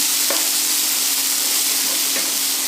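Chopped onions sautéing in a pan for Kerala-style onion thoran, a constant close sizzle with a couple of soft utensil clinks as they are stirred.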